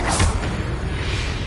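Confringo spell cast in a video game, a short, dense whooshing burst with a low thud, loud and close, filling the brief moment.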